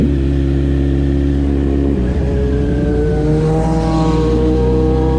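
A Kawasaki Z900 motorcycle engine idles loudly, then revs up as the bike rides off, its pitch climbing in smooth steps while the roar stays close and strong throughout.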